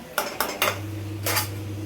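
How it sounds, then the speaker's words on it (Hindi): Dishes and pots clatter during washing up in a home kitchen, with three quick metallic clanks close together, then a pause and one more clatter, over a steady low hum. "बर्तन घसने जा रही हूँ"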